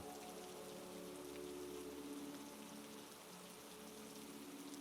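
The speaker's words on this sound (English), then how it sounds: "the gentle patter of raindrops on the car roof." Gentle rain falling on a car roof, a soft continuous patter with a faint low hum beneath, steady and quiet throughout.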